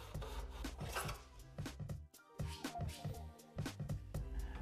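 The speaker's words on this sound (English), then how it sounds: "Use the miter box to saw a 45 degree angle at the end of your first board." A hand saw cuts a skirting board in a miter box with rapid, rhythmic rasping back-and-forth strokes, close and fairly quiet, with a brief pause midway.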